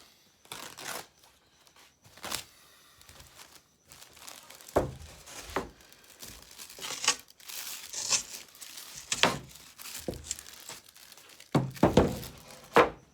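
Air bleed cloth is peeled away from a resin-soaked carbon fibre layup in crinkling, tearing pulls with occasional dull thunks, irregular and close, with no voices.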